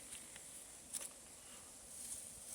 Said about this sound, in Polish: Są pszczoły.